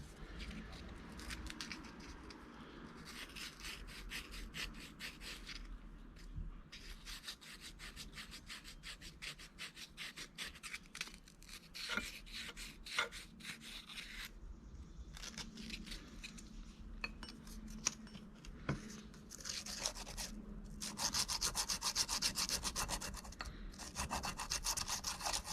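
Sandpaper rubbing on a silver coin and wood wedding ring, with a continuous close scratchy rasp in quick back-and-forth strokes and brief pauses.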